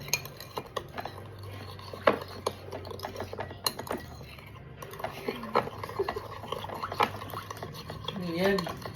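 Food stirred quickly with a utensil, rapid clinking and scraping against a pot or dish, irregular and close, with people talking softly in the background and a brief high squeal near the end.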